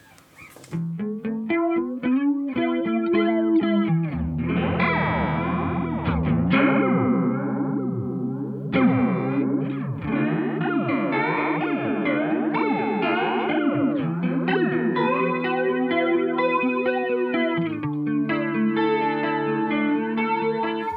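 Electric guitar played through a Line 6 MM-4 emulating an ADA Flanger, its notes swept by a jet-like whoosh that rises and falls continuously over sustained strumming.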